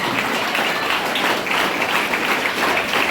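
An audience at a live gathering claps together in a dense, sustained burst of applause that stays loud and steady from start to finish, with no voices rising above it.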